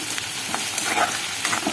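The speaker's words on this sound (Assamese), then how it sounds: "এইফালে এতিয়া মই যিখন কেৰাহী পাতি থৈছোঁ, ইয়াত মই এতিয়া পিঁয়াজ দি দিম। পিঁয়াজখিনি ভাজি থকা হৈছে" Onions frying in a wok (kadai), a loud, dense, continuous sizzle heard up close with faint stirring scrapes mixed in, and no voices.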